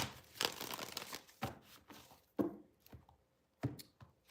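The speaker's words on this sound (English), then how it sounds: "One more shuffle." A deck of tarot cards is shuffled in several quick bursts of crisp riffling and slapping, close and fairly quiet, with short pauses between them.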